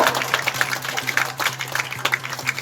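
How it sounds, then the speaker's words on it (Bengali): A crowd at a Kokborok event applauds the winning girls with scattered, uneven clapping, moderately loud, over a low steady hum. "হাততালি দিয়ে ওদেরকে উৎসাহিত করার জন্য"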